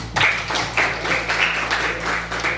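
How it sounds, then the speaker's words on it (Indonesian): Students in a classroom give a round of applause for a classmate, with several short bursts of clapping rising and falling close by, a steady low hum underneath. "Kasih tepuk tangan dulu untuk si Wali."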